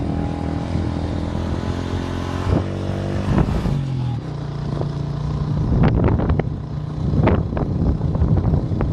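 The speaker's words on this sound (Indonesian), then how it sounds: "Kembali menaiki tanjakan yang begitu curam, yang dimana motor harus dipaksakan dengan gigi satu, tidak bisa menaiki dengan gigi dua." A motorcycle labours up a steep, deserted hill in Aceh in first gear, its engine droning steadily and loudly close by, with a few sharp knocks and rattles partway through.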